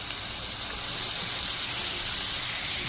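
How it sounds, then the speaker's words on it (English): Butter sizzling in a hot pan while cooking surf and turf dinner, a steady loud hiss and crackle filling the whole stretch with no talk over it. "Throwing some butter now."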